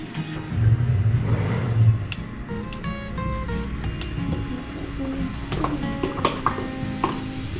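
Fish frying in a pan, a steady close sizzle with bursts of stirring or scraping, loud at first and then settling into a continuous crackle with occasional clinks.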